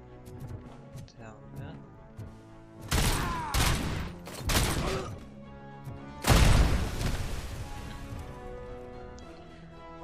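Gunfire in the video game Robocop Rogue City comes as several loud bursts of shooting with heavy impacts, separated by quieter game sound, while a player talks over it.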